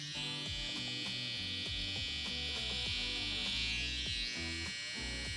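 Electric hair clippers buzz steadily and close up during freestyle hair design work, with the motor pitch wavering slightly as the blades move along a line.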